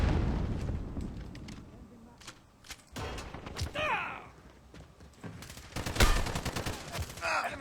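Call of Duty Modern Warfare (2019) gameplay with bursts of rapid gunfire and sharp shots, loud and irregular, mixed with distant blasts while a player talks over the action.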